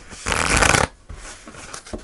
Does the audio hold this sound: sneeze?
no